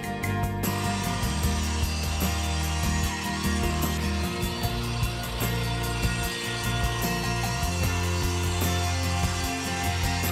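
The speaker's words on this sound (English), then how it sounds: "I started by cutting the 3 pieces of plywood at 48 inches by 30 inches." Power saw cutting sheets of plywood into 48 by 30 inch pieces for a workbench, a loud, steady buzzing drone with shifting pitch that runs continuously without pause, close by.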